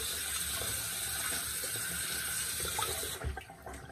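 Cold tap water runs into a sink as a boar shaving brush is rinsed under it, a steady close splashing rush that shifts and thins toward the end.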